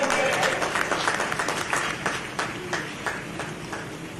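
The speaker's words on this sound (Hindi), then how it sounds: "आप एक बार जोरदार तालियों के साथ स्वागत करें," A crowd applauds at a closing ceremony for the Bastar Olympics in Jagdalpur, welcoming a visiting minister with sustained, dense clapping that continues evenly for several seconds, with a faint murmur underneath.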